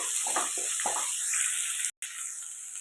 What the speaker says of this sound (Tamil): பச்சை மிளகா மூணு வெங்காயம் பொடிசாக கட் பண்ணி அதையும் இதில் போட்டுக்கலாம் இதெல்லாம் ஒன்றா வதக்கலாம்